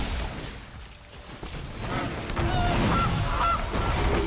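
A goose honks a few times, as played for the Gilded Goose card in the Magic: The Gathering video game, over a steady bed of game noise and music with no speech.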